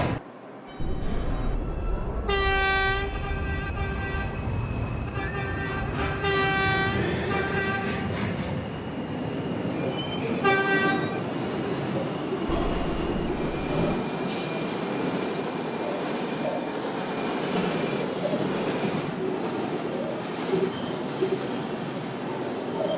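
An R142 subway 2 train runs toward Wakefield 241st Street, its steady rumble and rattling carriage noise filling the car, with sharp high wheel squeals and chime-like tones bursting in several times early on.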